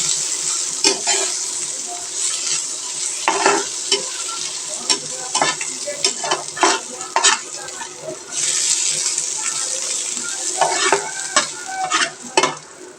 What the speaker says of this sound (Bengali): এবার ধনের পাতাটা ওর সাথে মিশিয়ে নেব।